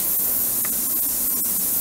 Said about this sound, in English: I'm spraying very low. I'm spraying at about 10 or 12 PSI.